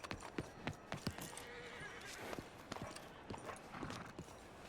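A horse in a Western video game snorts and whinnies faintly while hooves clop in an uneven rhythm, soft and distant against a hissing outdoor ambience, with no talk.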